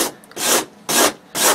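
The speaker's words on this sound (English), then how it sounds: "I come back and smooth it out with a rasp" A rasp is drawn across carved foam in three slow, even strokes, each a dry, hissing scrape with brief pauses between, close and clear with no voices.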